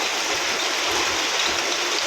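Heavy rain with hail pours down in Delhi, heard from a balcony as a dense, steady hiss without pause or voices.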